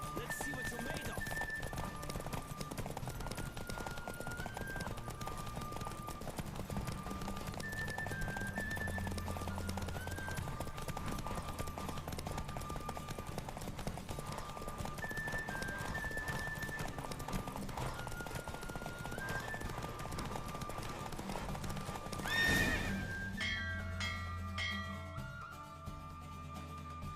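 Horse hooves pound in a steady galloping clip-clop throughout a horse race in the video game The Witcher 3, running continuously beneath music and occasional spoken lines, with a louder burst near the end.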